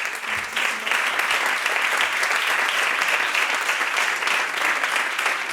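Steady, dense applause from a conference audience fills the whole stretch, loud and continuous with no pauses.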